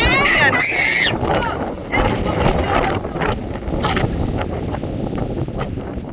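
Steady wind gusts before a rainstorm in open farmland buffet the microphone in a continuous roar, with faint voices partly buried beneath.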